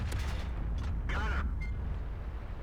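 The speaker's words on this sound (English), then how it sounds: "So yeah, HE shell, bang, fully penetrated the side of the T69." FV215b 183 tank firing an HE shell in World of Tanks and penetrating a T69's side: loud low booming battle noise throughout, with a brief voice over it.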